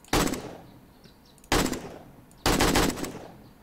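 An AK rifle in the video game 7 Days to Die fires three short bursts, each a loud, sharp rattling volley separated by brief pauses of near silence.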